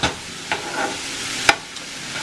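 Onions sauteing in oil in a pan, heard as a soft steady sizzle with a few sharp stirring scrapes and clacks, close and alone without any talk.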